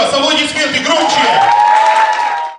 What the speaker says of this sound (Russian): Аплодисменты громче!